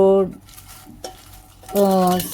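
Sliced fried onions dropped into a frying pan for a fish curry clatter and stir briefly, then a short sizzle and scrape of the spatula against the pan follows, close and clear with no talking.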